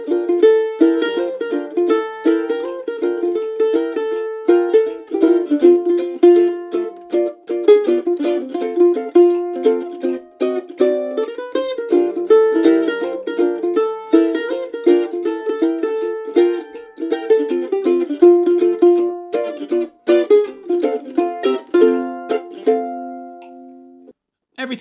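Mandolin playing a tune in a gypsy jazz swing style, a busy stream of bright picked notes and chords with lively syncopated rhythm, solo and close, ringing out at the end.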